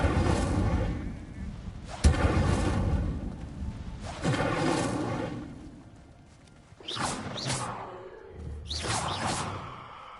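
An Incendio fire spell cast in the video game Hogwarts Legacy, heard as repeated loud whooshing bursts, several in sequence with short gaps, followed by sharper crackling blasts.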